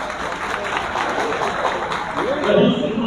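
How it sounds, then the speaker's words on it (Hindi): A large crowd at a political party rally in Kanpur applauds in welcome, a loud, continuous wash of clapping and crowd noise with a voice sounding over it through the PA. "तालियों से स्वागत"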